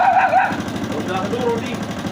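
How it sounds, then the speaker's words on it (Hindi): A Honda motorcycle, an older Karizma, kick-starts on the first kick and settles into a steady close idle with a rhythmic low thump, while a voice talks briefly at the start. "सिर्फ एक ही किक में बाइक स्टार्ट"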